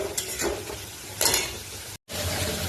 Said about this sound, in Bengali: এবার ভালো করে মশলাটা একটু ভেজে নিচ্ছি।